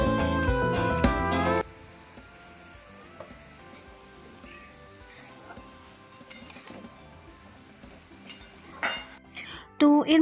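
Chopped onions fry with vermicelli in a pan, a soft sizzle broken by occasional utensil clinks and scrapes, ending in a louder burst of clatter.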